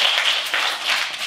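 Hands clap and pat during a self-tapping mindfulness exercise, making a steady, fairly loud patter of soft slaps that run without a break through the short stretch, with no voice over them.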